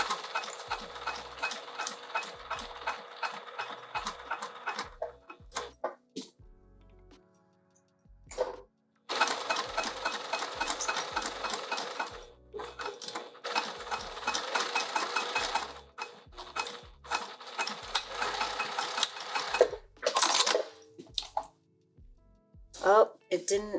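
A sewing machine runs in bursts as it stitches a fabric pouch for an Anna Maria box, with rapid mechanical chatter, short stops between runs and a person talking over and between the stitching.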